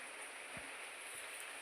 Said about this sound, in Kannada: ಹೊರಗಡೆ ಮಳೆ ಬರ್ತಾ ಉಂಟು,